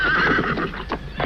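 A horse whinnies loudly and close as a radio-drama sound effect for a cavalry troop halting, one long shrill neigh followed by a couple of shorter snorting bursts, alone without talk.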